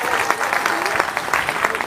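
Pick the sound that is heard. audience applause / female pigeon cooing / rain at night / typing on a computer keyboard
audience applause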